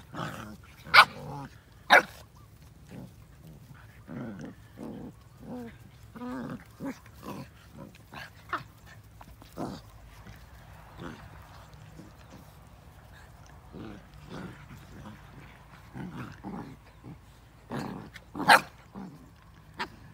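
Thai Ridgeback puppies playing together, with repeated short barks and yips scattered through the clip, a few sharp loud ones standing out over scuffling, close by.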